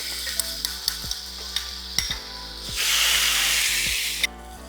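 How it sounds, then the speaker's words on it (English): Beef searing in avocado oil in a pan, with a steady close sizzle, sharp utensil taps against the pan, and a louder burst of hissing spatter near the end before it settles. "To the beef that's searing,"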